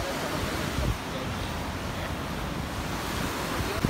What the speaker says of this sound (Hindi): समंदर ऐसी चीज़ है जो आपकी आंखों को ठंडक देती है।